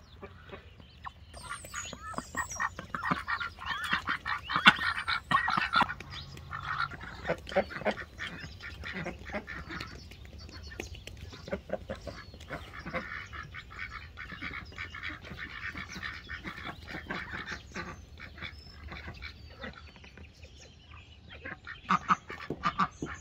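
Ducks and other farmyard fowl quack and cluck in a steady, fairly faint chorus, with scattered calls over a low background hum.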